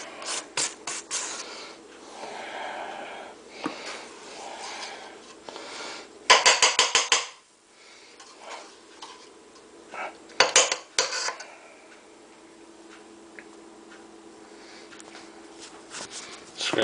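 A spatula scrapes down the sides of a mixing bowl of peanut butter blossom cookie dough in short, close, rasping bursts with sharp clattering strokes, separated by quieter pauses.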